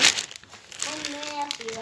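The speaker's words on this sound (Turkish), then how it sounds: "Şimdi o poşeti de açalım." A plastic bag holding puzzle pieces is torn open with a sharp burst of crinkling, then a few softer rustles, while a voice talks close by.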